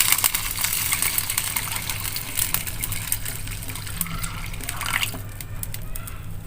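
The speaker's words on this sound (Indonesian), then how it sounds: "Kita masukkan airnya guys." Water is poured into a cooking pot while preparing Indomie ayam bawang noodles, a steady broadband gushing that runs loud and close for several seconds before tapering off.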